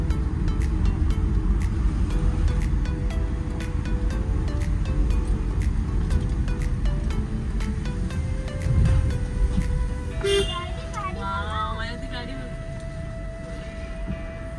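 Busy road traffic rumbles steadily with cars and other vehicles passing, a sustained low roar over the whole stretch, then a horn-like tone sounds near the end; people talk faintly in the background.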